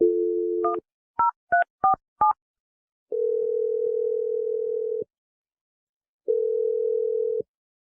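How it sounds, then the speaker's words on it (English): A telephone gives a steady dial tone, then a quick run of touch-tone keypad beeps dialing a number, followed by two long ringback tones with a pause between them, loud and clear with no voices. "I'm going to dial his number right now."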